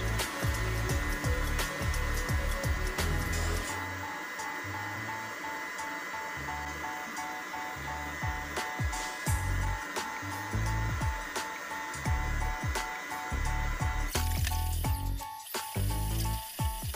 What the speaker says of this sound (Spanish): Incorporamos la gelatina sin sabor en forma de hilo mientras batimos.